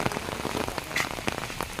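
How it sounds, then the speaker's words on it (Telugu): Steady rain patters on a hard surface, a dense, irregular spatter of drops with no voices. "వర్షం పడుతున్నది"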